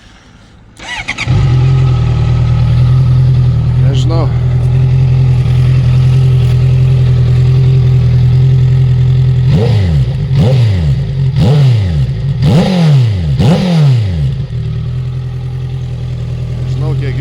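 A 2016 Honda CBR650F motorcycle starts up and idles steadily, close and loud, then gets several quick throttle blips, with a brief spoken word over it.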